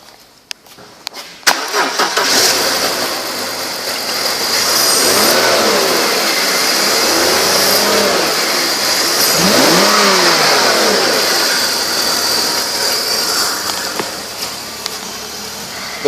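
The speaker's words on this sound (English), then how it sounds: "2003 BMW 325 Xi, mileage 134, 295, engine run video." A 2003 BMW 325xi engine cranks over and catches, then settles into a steady, loud, close idle running on alone with brief rises in revs and no talk.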